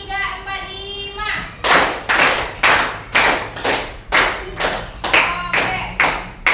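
Hands clap in a counting exercise after a brief spoken cue, a run of crisp, evenly spaced loud claps in a steady rhythm, with a voice counting along faintly underneath.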